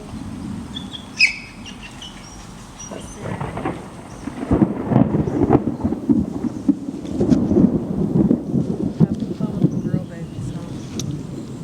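Rolling thunder rumbles through a southern thunderstorm in Arkansas over steady rain, building louder after a few seconds, with a few bird chirps early on.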